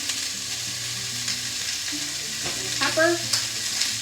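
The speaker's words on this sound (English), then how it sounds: "I'm going to stir that around" Vegetables for a spring chicken, veggie and white bean soup are stirred in a pot over steady close sizzling, with scraping spoon strokes and a clack near the end; a voice speaks briefly.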